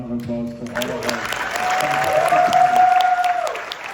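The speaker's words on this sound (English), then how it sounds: "If we can give one more huge round of applause to all of our" An audience at a cinema panel discussion breaks into a round of applause that builds from a voice and tones into a dense, loud, sustained patter of clapping with crowd noise.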